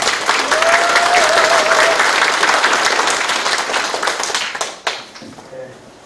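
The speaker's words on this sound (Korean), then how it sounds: "우리 시장님께 다시 한번 큰 박수 드립니다" Loud audience applause for the city mayor at a town-hall meeting with residents in Mogа-myeon, Icheon, sustained for several seconds, then thinning out as a voice starts speaking near the end.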